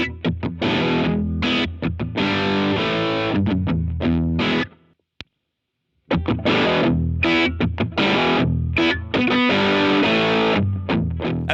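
An electric guitar plays through a Boss DS-1W distortion pedal in standard mode, giving a loud, saturated, sustained tone with chords and riffs, broken by a brief silent gap before the playing resumes.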